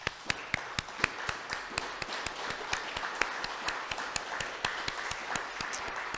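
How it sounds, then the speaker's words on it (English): An audience clapping for artists at an LGBTQ+ solidarity fundraiser event, a fairly quiet, steady run of sharp, evenly spaced claps lasting several seconds. "I want to do a big round of applause for all of our artists"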